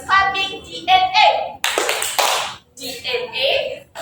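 Children clapping their hands in a classroom DNA clapping game, a dense burst of claps in the middle, with children's and a teacher's voices talking before and after.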